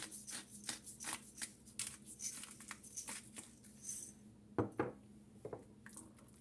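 Spoon stirring a thick olive paste in a bowl, a quick run of soft scraping and clicking strokes that slows near the end, close and faint with no talk.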